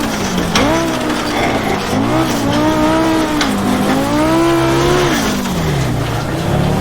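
Simulated Group B Audi rally car climbing a gravel hillclimb in the AMS1 racing game, engine loud and continuous with rising and falling revs through gear changes, plus occasional tire scrabble, no talking.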